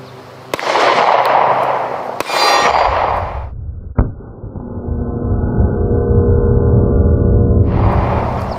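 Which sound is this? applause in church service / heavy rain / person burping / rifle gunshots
rifle gunshots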